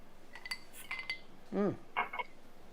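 Glasses clinking in a l'chaim toast, a few light bright clinks close by in a quiet kitchen, with a brief voice in between.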